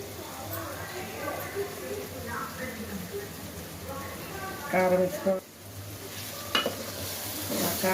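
Fish curry being stirred in a pan, with soft scraping and light sizzling under someone speaking throughout.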